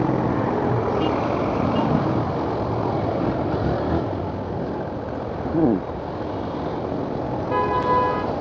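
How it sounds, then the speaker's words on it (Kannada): Morning road traffic near the Yeshwanthpur metro in Bengaluru makes a dense, continuous roar of engines, with a short vehicle horn toot near the end, heard alone without talk. "ಏನು ಬೆಳಗ್ಗೆನೇ ಇಷ್ಟೊಂದು ಟ್ರಾಫಿಕ್ ಆಗಿಬಿಟ್ಟಿದೆ"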